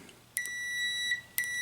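A multimeter set to continuity test on a Bally Baby Pac-Man machine gives three sharp electronic beeps, the first two held nearly a second and the third cut off, close and clear over quiet background.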